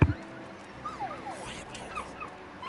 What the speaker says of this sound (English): That's the dog's name, Torgal.